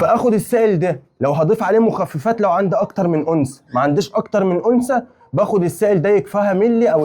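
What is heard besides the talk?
No everyday noise stands out behind the speech.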